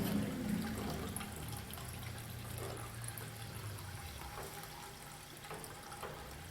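Fuel drains out of a Ford Mustang during a fuel pump replacement, a quiet steady trickle and splash of liquid, faint and close, with no talk.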